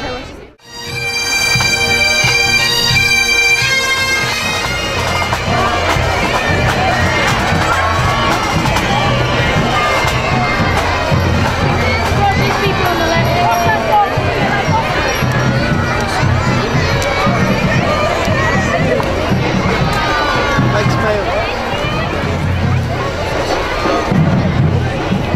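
A large crowd at Santa's Paisley Parade cheers and shouts continuously, with children's voices prominent in the dense babble and music or bells audible near the start, loud and close throughout.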